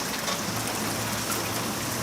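Steady rain falls outdoors in a dense, even hiss, close and fairly loud, with no voices or other sounds over it.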